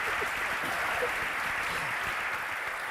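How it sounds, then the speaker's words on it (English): Audience clapping at a De Beers Group event, a steady moderate wash of applause with no breaks, somewhat distant. "I think that deserves a round of applause."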